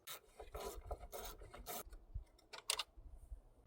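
A ratchet wrench removes a 10mm bolt holding the PCM atop the battery of a GMC Terrain or Chevy Equinox, producing quick, close rasping bursts of clicks in short strokes with brief pauses between.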